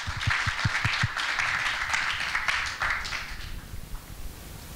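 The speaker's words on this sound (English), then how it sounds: "Give them an applause, please." An audience at an automotive circular economy conference applauds, a few sharp claps rising into a broad wash of clapping that fades away over several seconds.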